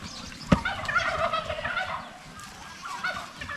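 Turkeys in a fenced pen gobble in repeated warbling bursts, moderately faint and a little distant, with a sharp knock early on and a soft outdoor background.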